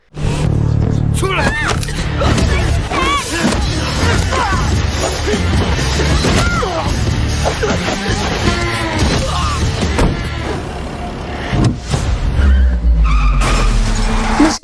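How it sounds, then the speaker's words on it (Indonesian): A film car chase in which a car pursues a taxi, with loud tire squeals, skids and revving engines over dramatic score, plus a heavy impact near the end. "aksi kejar-kejaran mobil yang cukup edan"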